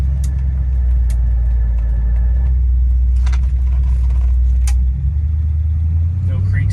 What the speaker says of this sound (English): Going 40 right now, it's whisper quiet, no wind noise.